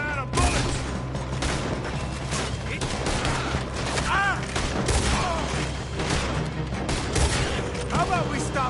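Sustained shootout gunfire in Red Dead Redemption 2 during a robbery, with a steady barrage of overlapping rifle and pistol shots, loud and dense, and voices shouting amid the fire.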